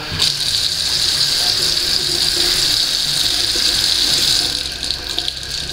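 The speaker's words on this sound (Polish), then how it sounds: "Na początku może włączmy sobie wodę." Tap water runs steadily into a container, a continuous close gushing splash that holds for several seconds and eases slightly near the end, with no voices over it.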